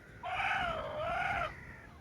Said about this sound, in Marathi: मला वाटतं हे कोंबड्या खुडूक होतील आता